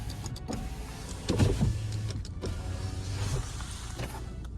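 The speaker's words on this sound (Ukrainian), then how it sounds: "Всі чотири вікна у нас йдуть із доводчиками" Electric power window of a 2015 Audi A4 B8 S-Line 2.0 TDI whirring as the glass travels, a close motor hum with a clunk at the start, inside the quiet car cabin.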